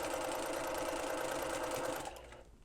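A sewing machine stitches quilt block pieces for a Double Monkey Wrench block, a fast, steady mechanical whir running nonstop close by before quickly stopping.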